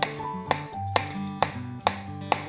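Knife slicing a peeled banana on a cutting board, six crisp evenly spaced chops about half a second apart, close and clear with no talking.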